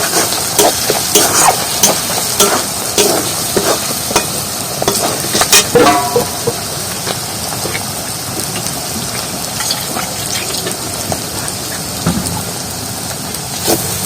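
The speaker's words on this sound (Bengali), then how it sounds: "এবার মশলাগুলো সব ভালোভাবে নাড়িয়ে নেব।" Frying spices with a spoonful of red chilli powder are stirred in a pan for a chicken masala curry, giving a loud, close, continuous sizzle broken by repeated scraping strokes of the spoon.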